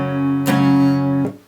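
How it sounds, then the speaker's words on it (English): A guitar bar chord strummed once and left ringing with sustained harmonics, then struck again near the end; close and clear with no talking. "Now, as a bar chord, this is going to sound like this."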